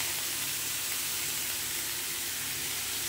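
Steamed jackfruit and fried coconut pieces sauté in a pan for a Bengali jackfruit chakka, giving off a steady, even sizzle and hiss that holds close and unbroken throughout.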